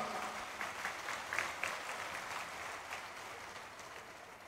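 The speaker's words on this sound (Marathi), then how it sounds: "एकदा जोरात टाळ्या वाजून नितीनजी करता" Crowd applause at a political rally for Nitin Gadkari; a broad, fairly faint wash of many people clapping, steady and distant, swelling slightly midway before easing off.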